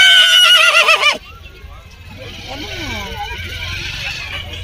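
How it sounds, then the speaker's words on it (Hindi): Horses and foals whinny loudly at the Ransi horse show, one long shaking neigh up front, then fainter calls over a busy outdoor crowd and background bustle. "ये देखो आप खूबसूरत घोड़े घोड़ी और बच्चे बच्चे आए हैं रणसी शो में"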